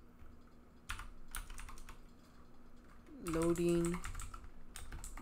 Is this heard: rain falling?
no